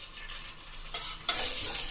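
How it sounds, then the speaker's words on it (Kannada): Cumin seeds hit hot ghee in a pan and set off a steady hissing sizzle that swells noticeably louder partway through, heard up close with no talking. "ತುಪ್ಪ ಬಿಸಿ ಆದ್ಮೇಲೆ ಜೀರಿಗೆ ಹಾಕೋಣ."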